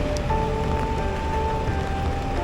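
Rain falls on wet streets in Minato City, Tokyo, a soft continuous patter with a low rumble of city background, fairly quiet and steady, no speech.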